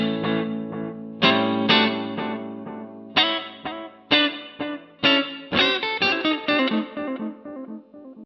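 Electric guitar run through the real echo setting of a Harley Benton DNAfx GiT Pro multi-effects unit, with picked chords and notes trailing into decaying echoes, several phrases in succession and no voices.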